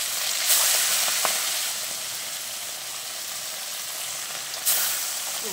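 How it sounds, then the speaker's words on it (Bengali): Food fries slowly in a very hot kadai, a steady close hiss and sizzle with a couple of brief louder surges and a faint tap. "ধীরে ধীরে করে ভাজি।"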